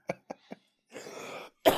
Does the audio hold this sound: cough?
yes